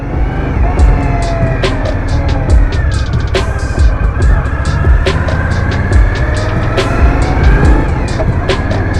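A 2018 Indian Scout Bobber motorcycle riding at night, its engine a steady loud rumble with wind noise and repeated sharp clicks or taps over it throughout.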